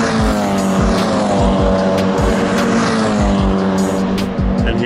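Race cars roar loudly at TT Circuit Assen ahead of a MaX5 Cup qualifying run, engines droning close and continuous with repeated gear-shift dips and a brief tire squeal.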